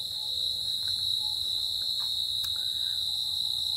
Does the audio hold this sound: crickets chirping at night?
yes